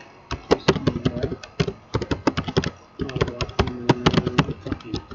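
Rapid bursts of typing on a computer keyboard while entering Arabic text, crisp close key clicks in quick runs with a short pause between two flurries.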